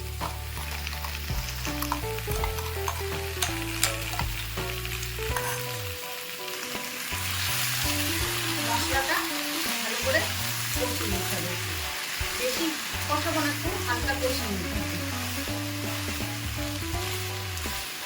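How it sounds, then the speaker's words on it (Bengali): Mustard, coconut and green chili paste sizzles and fries with ridge gourd in a pan, a steady close crackle with spoon stirring throughout. "ভালো করে নাড়া দিয়ে দিচ্ছি সর্ষে নারকোল আর কাঁচা লঙ্কার পেস্টটা দিয়ে দিচ্ছি"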